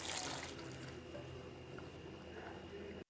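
About a kilogram of water poured into a pot of beef karahi with turmeric, a steady close splashing rush that holds for a few seconds, with no talk over it.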